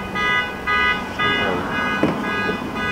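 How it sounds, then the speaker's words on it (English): A car alarm blares nearby in repeating pulsing bursts of steady electronic tones, loud throughout with a brief knock near the end. "Car alarm going off."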